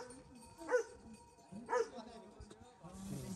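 A Bhote-type dog barks a few times in a village in Ghandruk, Nepal, with two short clear yelps a second apart followed by lighter sounds, fairly near and over a faint background with quiet voices.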